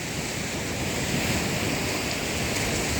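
Big ocean waves roll in as a continuous loud roar of surf, mixed with wind buffeting the microphone, with no distinct single crash and no speech.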